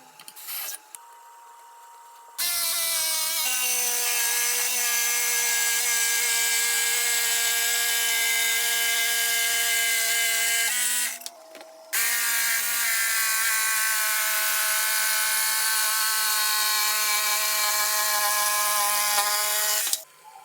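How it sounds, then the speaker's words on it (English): A jigsaw cuts wood, running loud and steady with a high whining buzz, pausing briefly once before cutting again; no voices. "This way I can use my jigsaw to cut out the insert."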